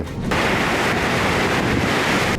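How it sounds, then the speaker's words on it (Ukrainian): Floodwater from the overflowing Ural River in Orsk, a loud, steady broadband rush of churning water, close and continuous with no voices. "Річка Урал виходить з берегів"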